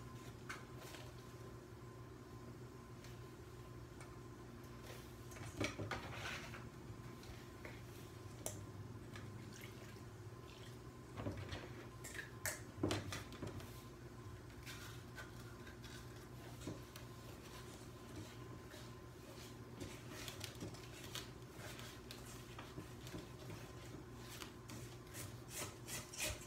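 Concrete mix is stirred in a stainless steel bowl, giving a steady, quiet scraping and rubbing with occasional sharper scrapes and clinks over a constant low hum, with no talking.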